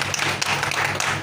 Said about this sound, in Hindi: एक बार जोरदार ताली सभी लोगों एक साथ खड़ा होकर जोरदार ताली हम करिए।